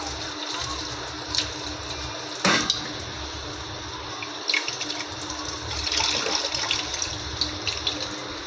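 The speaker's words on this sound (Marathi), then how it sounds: "परत नळाच्या पाण्याने स्वच्छ धुवून घेते त्याला मी" Dried small shrimp are rinsed under a running kitchen tap: a continuous, moderately quiet stream of water splashing, with a few brief louder splashes and clatters as the shrimp are handled.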